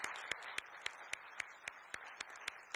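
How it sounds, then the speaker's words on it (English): A TEDx audience at Penn claps in slow unison, roughly ten sharp, evenly spaced claps over steady room noise, heard from a distance and fairly faint. "I'm going to ask everybody to clap."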